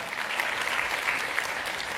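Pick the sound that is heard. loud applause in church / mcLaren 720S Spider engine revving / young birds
loud applause in church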